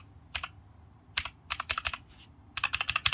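A clicky HyperX mechanical keyboard, its keys oiled but fitted with no O-rings, struck close up in bursts: a couple of lone clacks, a rapid run of six, then another fast run, crisp and dry with no voices.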